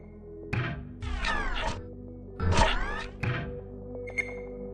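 Sci-fi doors in an Unreal Engine game slide open and shut in four sweeping mechanical bursts with whooshing, hissing tones over a low steady hum, followed by a short bright chime.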